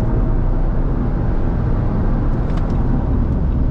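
A Jeep Commander Blackhawk accelerates at full throttle, its engine giving a loud, steady roar heard from inside the vehicle.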